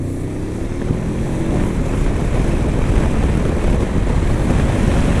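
A Honda NX500 motorcycle accelerating through Manila traffic, a loud steady engine drone rising slightly in pitch under heavy wind rush from the rider's position, continuous with no talking.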